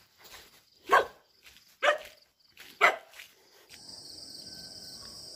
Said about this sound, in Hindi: यहाँ में दो दो कुत्ता है, इसे भौंक रहे।